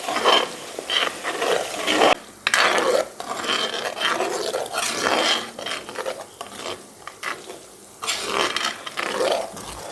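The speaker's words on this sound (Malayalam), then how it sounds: "അരി ചേർത്ത് നന്നായി ഇളക്കി കൊടുക്കണം" Rice and ground herbs being stirred in oil while preparing homemade herbal hair oil, giving a continuous scraping, rasping stir against the pan with repeated strokes, fairly close and steady with no talking.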